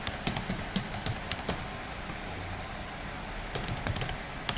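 Quick bursts of computer keyboard typing, clustered clicky keystrokes at close range, a pause in the middle, then another flurry of taps.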